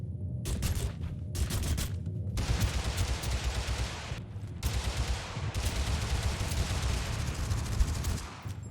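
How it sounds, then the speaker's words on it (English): Rapid bursts of gunfire from dual silenced pistols in the battle game TABG crackle in dense, overlapping volleys separated by brief pauses, loud and continuous throughout. "here's a compilation of me getting some kills with the dual silenced pistols in Drop 47"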